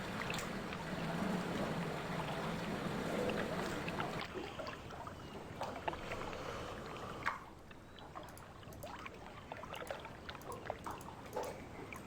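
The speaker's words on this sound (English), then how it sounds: "I forgot how much I hate the water sounds here." Water ambience from the video game Riven, with a low rushing flow that gives way to sporadic splashes, trickles and drips, moderately loud and without speech.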